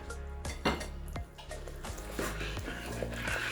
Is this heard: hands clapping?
no